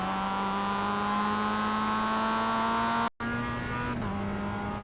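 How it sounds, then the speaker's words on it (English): Mazda MX-5 race car engine in the iRacing simulator at Virginia International Raceway North, a loud steady droning note that cuts off briefly, then returns for a sharp throttle blip as it downshifts into first. "You want to give the throttle a short hard tap at the same time you are shifting down into first."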